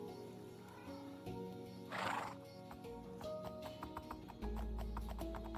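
A horse in the Minecraft video game with the SWEM mod gives a loud neigh, followed by a string of quick hoof clip-clops over a steady game background.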